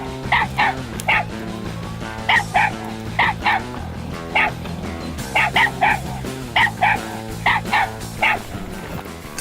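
Hunting dogs bay and bark excitedly at a large raccoon treed overhead, a steady run of loud, overlapping yips and bow-wows coming in rhythmic clusters, close by and with no talk.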